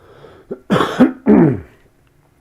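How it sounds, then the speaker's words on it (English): A few harsh, close coughs in quick succession, the last two loud and raspy, followed by quiet. "Do excuse me, I'm about to cough."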